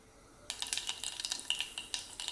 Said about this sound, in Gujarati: રાઈ ફૂટે ત્યાં સુધી રાહ જોવાની.